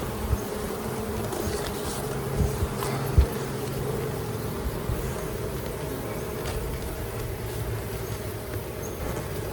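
Honey bees buzz around a hive in a steady, dense drone, with a few brief louder passes close by and no voices.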